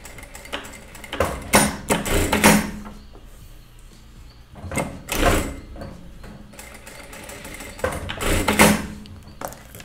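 A sewing machine stitches the neckline of a peasant-style dress in short bursts of rapid whirring, stopping and starting several times with quiet pauses between runs.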